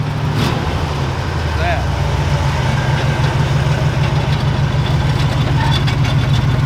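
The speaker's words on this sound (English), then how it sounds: "I don't know why it's idling up. Because the choke's stuck on." A 1969 Ford F250 crew cab engine runs at a high idle with its choke stuck on, a loud, steady, close rumble with constant low throb and no gaps.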